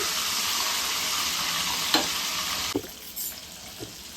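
KFC-style chicken pieces fry in hot oil with a loud, steady, close sizzle, broken by a few brief knocks as the pieces are moved.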